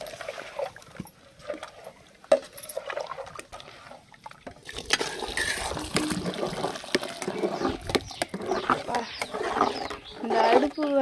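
Cooked rice batter for vadam is poured out in the open air, giving soft wet splattering and dripping sounds. Outdoor background noise and voices can be heard around it.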